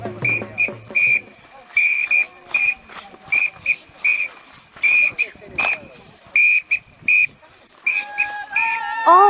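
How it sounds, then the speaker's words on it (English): A shrill traditional whistle sounds in short repeated blasts at Koochi nomad wedding festivities, loud and rhythmic, keeping time for the dancing men, with a final rising trill. "The tempo and rhythm is driven by a traditional drum or often a whistle."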